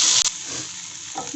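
Beef macaroni fries and is stirred in a pan, a brief burst of sizzling with a scrape of the spoon over a soft hiss.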